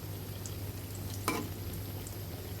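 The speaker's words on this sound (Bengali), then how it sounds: "এভাবে আমরা এপাশ ওপাশ করে ব্রাউন কালার করে ভেজে নিব।" Chicken burger patties fry in a pan with a soft, steady sizzle and a brief scrape midway, heard alone without voices.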